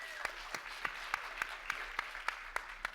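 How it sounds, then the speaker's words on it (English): Applause from the audience at a conference talk on machine learning and AI for brands, with a soft wash of crowd clapping beneath sharp, evenly spaced claps close by, about three per second. "Everybody give a round of applause for Dylan."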